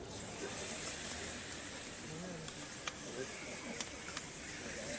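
Fennel and tomatoes sauté in olive oil in a pan, giving a steady soft hiss and sizzle with a few small crackles and pops, while a voice talks faintly in the background.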